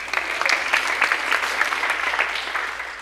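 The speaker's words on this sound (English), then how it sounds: "Please applaud." Audience applause welcoming the final panel member at an education town hall, a steady wash of many hands clapping through the whole moment without letup, moderately loud and close.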